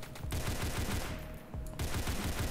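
Rapid automatic bursts from an AK-style rifle in a Roblox first-person shooter, loud and continuous with a brief lull in the middle before the firing resumes.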